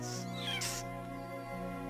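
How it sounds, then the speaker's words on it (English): A cartoon leopard cub gives a couple of thin, high mews in quick succession, close and clear over a sustained musical backdrop. "Just a little kitten, too."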